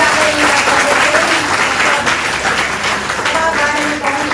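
A hall audience claps loudly to welcome a chief guest, an advocate from the Punjab and Haryana High Court, at a university law event, with sustained, even applause throughout and faint voices mixed underneath.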